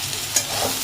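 Pointed gourd (potol) frying in a pan, a close, continuous hiss of sizzling oil with a brief scrape or stir partway through. No talking is heard.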